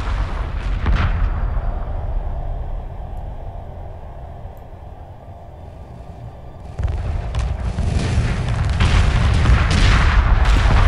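Explosions and weapon fire from a space battle in Homeworld Remastered, with a booming blast at the start, a quieter lull, then a renewed barrage of rumbling detonations building loudly toward the end.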